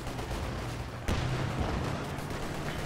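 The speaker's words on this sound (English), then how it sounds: "Rifle nade on the way. Nice rifle nade there from Covenant." Rifle grenade blast in a World War II strategy game match with Tiger tanks: a sharp burst at about one second cuts through dense battle noise and steady gunfire, loud and close, with no talk.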